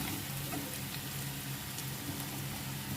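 Spice masala with garlic frying in oil in a pan gives off a steady, close sizzle with fine crackling throughout, with no talking.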